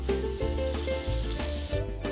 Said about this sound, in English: We're going to saute that with just a little bit of olive oil, get some nice color on there.